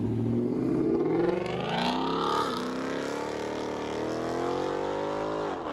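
A Ford Mustang 5.0 V8 with its muffler deleted revs and accelerates, a loud deep exhaust roar whose pitch climbs and sweeps through the gears, heard up close with no talking.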